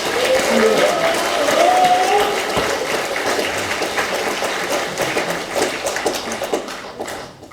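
An audience at an indoor civic gathering gives steady applause. The clapping is sustained and fairly loud at first, then fades gradually toward the end.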